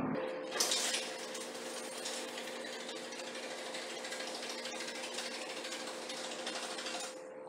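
A garage door rolling open on its wheels after a spring and cable repair: a steady, loud metallic rattling grind with a constant squealing whine lasting several seconds, then cutting off, no talk.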